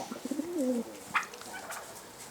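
Pigeons cooing inside a coop, a short soft throaty warble followed by a brief sharper call, fairly faint and close, with no talk.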